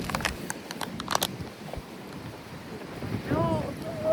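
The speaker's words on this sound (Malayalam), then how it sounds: "അങ്ങനെ നല്ല കാറ്റ് അവിടെ." Strong outdoor wind buffets the microphone in gusts throughout, with broadband rumble and a few sharp bursts early on, and a faint tonal whine near the end.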